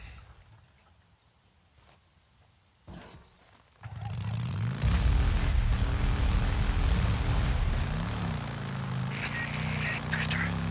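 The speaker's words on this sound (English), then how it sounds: "One of our helos is heading towards your position now." A helicopter in the video game Days Gone rises from a quiet start into a loud, steady rotor and engine roar that holds for the rest of the stretch, with faint talk underneath early on.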